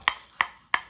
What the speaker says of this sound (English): That's me just tapping my drills to get them down here in the corner so I can shake them out.